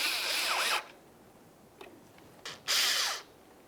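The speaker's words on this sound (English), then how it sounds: "Go ahead and start in that Phillips head screw and snug it up." A power driver sets a Phillips head screw into the front bumper cover of a 2006-2012 Ford Fusion: two short, loud whirring bursts close by, separated by a quiet pause with faint clicks and no speech.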